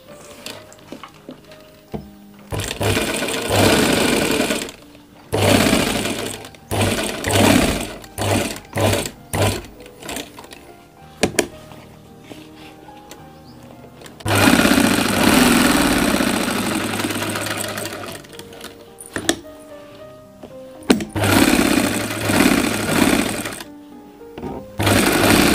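A sewing machine stitches along the buckram-backed collar of a men's kurta in repeated runs, some short stuttering bursts and some longer steady whirs, separated by brief pauses, close and loud.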